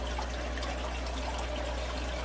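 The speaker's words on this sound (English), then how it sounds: "Alright, it's actually drawing water." A water pump draws water from an aquarium during a water change, giving a steady, even rush of running, splashing water that continues unbroken from close by.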